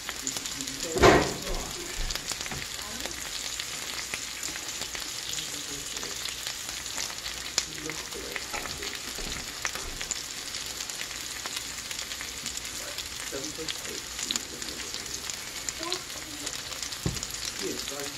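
Pork steak sizzles in a pan alongside browning onions, a steady low crackle running throughout with a brief louder flare near the start as the meat is flipped, close and moderately loud.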